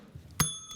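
A single sharp ding from a desk bell rings out close and clear, its tone lingering briefly before a soft second tap near the end.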